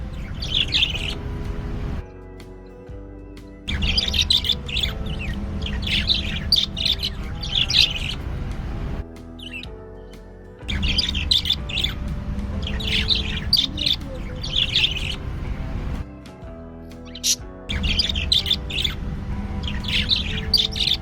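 Pet budgies, freshly bathed with their cage just cleaned, chirp and squawk in busy overlapping bursts, loud and close, with a few short pauses between phrases and no talking.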